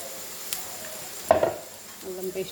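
Onions frying with turmeric and ginger paste as they are stirred in a pan, a few brief scrapes and a soft sizzle, close but fairly quiet over a short stretch.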